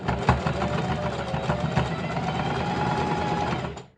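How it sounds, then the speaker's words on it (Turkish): A sewing machine stitches the four sides of a bag's pocket lining in a steady, fast mechanical whir with rhythmic needle chatter. It runs loud and close for about four seconds, then stops, with no talking. "bu şekilde cep kısmının dört tarafında dikiş makinesine dikip geliyorum"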